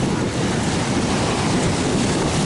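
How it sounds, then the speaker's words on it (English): Atlantic Ocean surf along the shore in the Florida Keys, a loud, continuous wash of waves mixed with wind buffeting the microphone, with no pauses across the stretch. "Welcome to the Atlantic Ocean, the Florida Keys."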